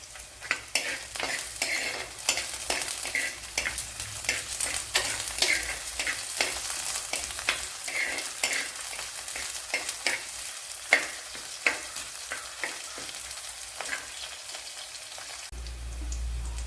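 Garlic fries in a pan of oil as the base for a Kerala sardine fish curry, giving a steady close sizzle broken by frequent sharp scrapes and taps from stirring, with no talk.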